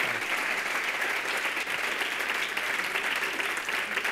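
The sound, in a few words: audience applause for student presenters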